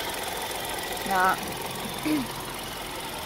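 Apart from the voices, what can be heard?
Hyundai i10 2016 1.0 three-cylinder engine idling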